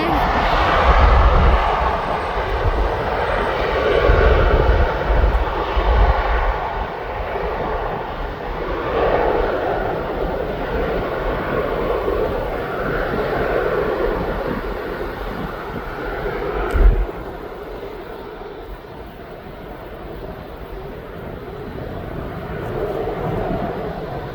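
A fixed-wing aircraft passes at East Midlands Airport, its engine roar broad and sustained for the whole stretch, loud and steady with a brief bump near the middle, while a voice talks over it.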